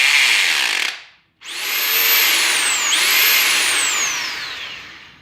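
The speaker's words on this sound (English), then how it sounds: "Then you got just the drill." A corded hammer drill runs at full speed, briefly stops, then spins back up, giving a loud steady whine with rising and falling pitch sweeps.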